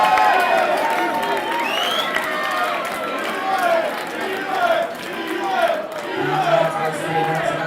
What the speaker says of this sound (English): Round of applause for both men after 4 rounds of action.